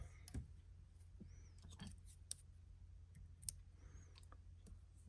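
Scissors snip a thread tag while a golden stonefly is tied at a fly-tying vise: a few faint, close, sharp clicks spread over a few seconds, set against quiet room tone.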